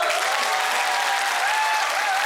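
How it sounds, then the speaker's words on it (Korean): A crowd applauds at a current-affairs talk event held in the Wolpyeong-dong Catholic church. The clapping is dense and continuous, with a faint tonal hum running beneath it. "박수 한번 주시죠"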